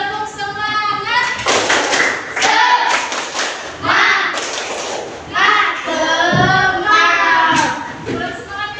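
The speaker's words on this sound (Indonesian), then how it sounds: "Tepuk semangat." A primary school class joins in a rhythmic clapping chant, children's voices calling out in unison between sharp bursts of hand claps, loud and close in the classroom.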